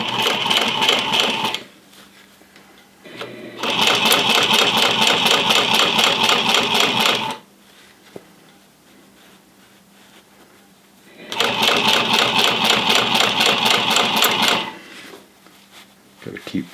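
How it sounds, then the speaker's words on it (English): A sewing machine stitching a flat felled seam, running in two long, steady rapid-stitch bursts of several seconds each with quiet pauses between them; a person talks during the pauses. "And we're going to sew the width of this foot."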